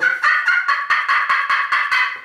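Wild turkey box call worked with a one-piece striker, giving a close, loud run of about ten raspy yelps in a steady rhythm, played alone with no talk.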